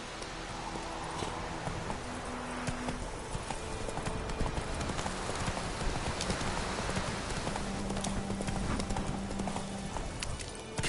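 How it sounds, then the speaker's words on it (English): Horse hooves clip-clop steadily through a steady ambient bed in The Witcher 3, a continuous walking rhythm at moderate volume with a faint wet, rain-like texture behind it. "Come on, Roach. Slow now. Whoa."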